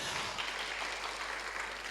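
An audience claps in a church gathering, producing a brief, faint, steady wash of applause heard from a distance.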